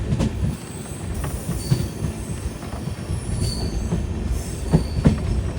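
Train hauled by a WP4 locomotive on a Kerala to Goa journey, a steady loud rumble of rolling wheels and carriages with faint squeals and a few sharp clicks, heard from close by with no talking.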